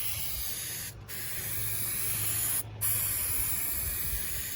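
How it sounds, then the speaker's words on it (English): A spray gun lays a coating onto a truck headliner in a loud, continuous close hiss, broken by two short pauses as the trigger is released. "I'm going to spray half of the line over it."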